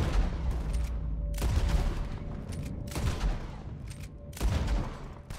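Gunshots during a Red Dead Online treasure-map session: several heavy, booming reports spaced a second or so apart, each with a long rumbling tail, over steady low ambient noise.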